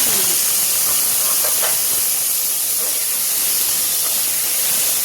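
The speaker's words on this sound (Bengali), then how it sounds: "আলুকে একটু ভেজে নেব।" Potatoes, cut and washed, frying in hot oil for an eggplant and potato sabzi, giving a steady loud hiss and sizzle throughout with a few faint clicks, no talking.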